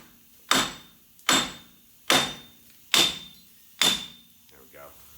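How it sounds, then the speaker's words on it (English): Hammer blows on the back of a wheel hub assembly on a 1997-2005 Chevy Blazer or GMC Jimmy four-wheel drive: five loud, evenly spaced metallic strikes, each with a short ringing decay, then a faint scrape. "We're gonna hammer at the back."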